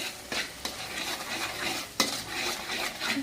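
Red chili powder and turmeric masala being stirred in a pan, a steady scraping and gentle sizzle with a few sharper utensil knocks against the metal, close and continuous.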